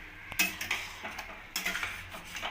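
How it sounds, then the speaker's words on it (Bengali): Lid lifted off a wok of simmering cauliflower, with a series of close metallic clinks and clatters of metal on cookware, uneven and fairly loud, without speech. "ফুলকপির কড়াইয়ের ঢাকাটা খুলে আমি দেখে নেব যে ফুলকপিটা ভালোভাবে সেদ্ধ হয়েছে কিনা"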